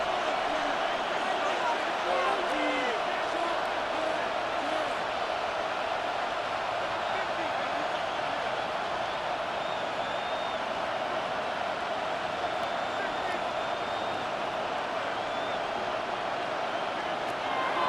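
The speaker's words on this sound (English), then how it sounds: "this crowd is making an impact right now" Stadium crowd in Madden NFL 26 roars as a steady, dense wash of cheering throughout, with game commentary talking over it.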